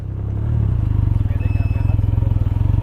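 A 2019 Can-Am Ryker three-wheeled motorcycle's engine idles and chugs in a steady, throbbing rhythm as it backs up, the low exhaust pulse close and loud.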